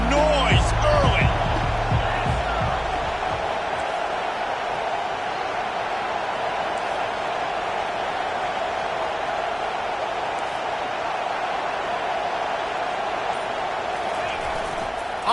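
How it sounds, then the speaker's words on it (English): Home crowd at a football game keeps up a steady, loud roar throughout, with a brief burst of thumps and sharper sounds near the start, then a dense sustained wash of crowd noise. "This crowd bringing the energy and noise early."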